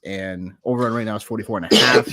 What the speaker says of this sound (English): Or if that was a cough